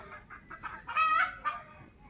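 Several chickens cluck in a series of short, rhythmic calls inside a coop at a Bangkok gamecock pen, fairly close and moderately loud, with one louder, drawn-out squawk in the middle and no talking.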